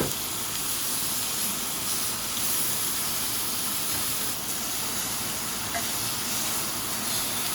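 Filet mignon searing in a hot cast iron skillet gives a loud, continuous close-up sizzle and hiss that holds steady without a break.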